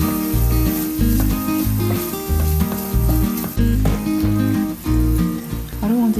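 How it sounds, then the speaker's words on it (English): Fresh shrimp frying in a pot and being stirred. A constant bright sizzle plays under loud, rhythmic background music that dominates throughout. "In the same pot, add some fresh shrimp to the pot and stir until it's well fried."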